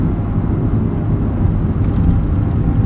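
A 1995 Honda Civic Si cruising as it is shifted into fifth gear, heard from inside the cabin as a steady, loud engine and road drone without a distinct shift clunk.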